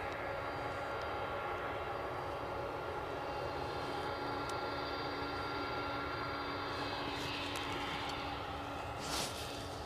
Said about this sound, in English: I hear the Delta in the background, but I'll stay with the departing plane.